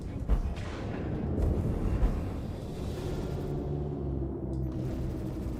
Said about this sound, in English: So I can still hit him a bit with missiles, see?